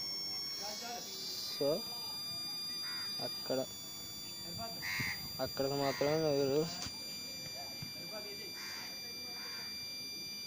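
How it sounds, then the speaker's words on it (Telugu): A satellite finder meter beeps while an Airtel DTH dish is aligned, a thin steady high-pitched tone running continuously beneath someone talking nearby. "బీప్ సౌండ్ వచ్చేసి హై సౌండ్ వస్తుంది కదా."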